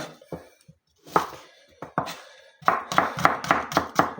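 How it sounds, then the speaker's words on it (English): A knife finely chops vegetables on a board. Scattered cuts start the run, then a quick, steady burst of close, crisp chops follows, with no talking. "I'm making it fine because fine chop is something which I really like"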